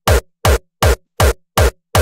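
Six evenly spaced punchy hits of a layered kick drum with an added click and reverb, each a loud booming thump with a bright snappy attack and a short decaying tail, alone.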